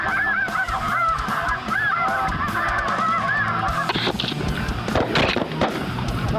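Snow geese honking overhead during a hunt in Arkansas, a dense flock chorus of repeated calls carrying steadily through the whole stretch, with some rustling and clatter nearby.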